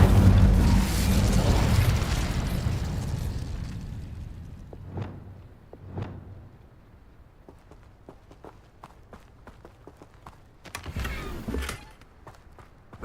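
The Incendio fire spell in the Hogwarts Legacy video game: a loud roaring burst of flame that fades away, followed by scattered footsteps and light impacts, then another short fiery flare near the end.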